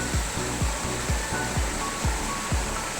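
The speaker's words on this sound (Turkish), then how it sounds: "Şelale gibi su akıyor" Water pouring like a small waterfall at Paşaderesi in Çameli, Denizli, a loud continuous rushing broken by regular low rhythmic thumps.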